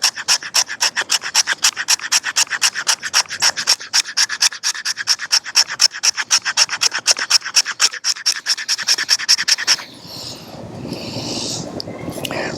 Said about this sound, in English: Let's see how it scrapes actual wood.